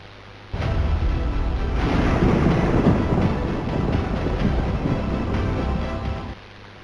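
Heavy rain and gusting wind from a cyclone striking a coastal village in Valsad, a dense broadband roar that starts abruptly, holds loud and steady for about six seconds, then cuts off.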